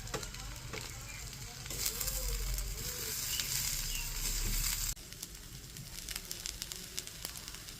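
Meat fries with turmeric and salt in a pan for khichuri, a loud continuous sizzle with crackling that drops to a softer, steadier frying hiss partway through.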